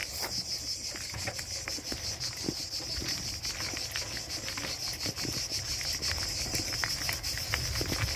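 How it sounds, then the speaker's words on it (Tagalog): Crickets chirp in a dense, continuous high-pitched trill outdoors, steady and fairly loud, with faint rustles and footsteps scattered underneath. "Sound ng mga kuliglig."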